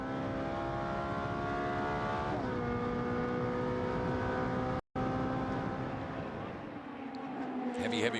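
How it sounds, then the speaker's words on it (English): A Wojtek racing car in a Trofeo Pirelli race at Paul Ricard drones with a steady high engine note that shifts down through gears, heard from on board, briefly cutting out before resuming with rising revs. "The Wojtek racing car."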